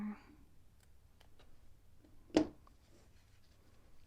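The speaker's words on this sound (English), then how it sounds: "Then let's clip this zipper again." A sewing clip snaps onto a zipper for a supply case, one sharp close click standing out against a quiet background, with someone speaking softly around it.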